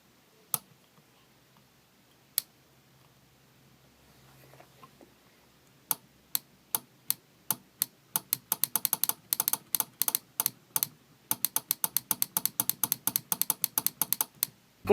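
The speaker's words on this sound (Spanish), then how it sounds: "se escucha un clic cada que nosotros excitamos a la bobina" An electromagnetic relay clicking sharply each time its coil is energized and released, a few isolated clicks at first, then rapid bursts of crisp, close clicks in quick succession against a quiet background.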